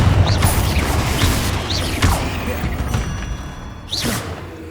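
Confringo blasting curse from Hogwarts Legacy, several sharp whooshing bolts with impact thuds at roughly one-second intervals over a busy, rumbling game backdrop, with no voices.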